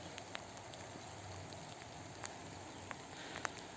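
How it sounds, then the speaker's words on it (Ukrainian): Steady rain falls over a vegetable garden with rows of early potatoes, cabbage and onions, a soft continuous hiss with a few sharper drip taps scattered through, fairly faint and even. "Я дуже рада, що дощик йде."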